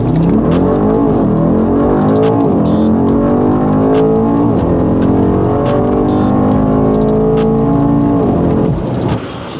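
A tuned BMW M car with CPC removal and a performance tune accelerates hard during a ride, its engine note climbing loudly through several gears with brief dips at each shift before easing off at the end.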